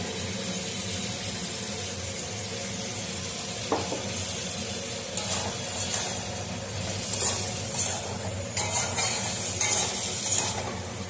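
Potatoes fry in a pan with salt, turmeric and spices, a soft steady sizzle broken by scraping stirs and occasional utensil clinks against the pan.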